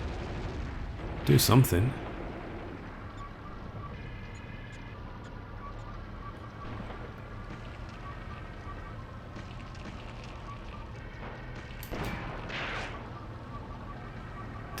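Gunfire in the Graviteam Tactics war game, with a loud burst of shots early on and another sharper report near the end over a steady rumbling battle bed, while someone speaks briefly.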